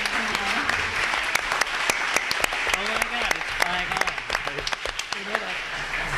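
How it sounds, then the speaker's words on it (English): An audience at a campaign panel event breaks into sustained applause with many overlapping claps, while a voice speaks over it. "let's give one more round of applause to this amazing"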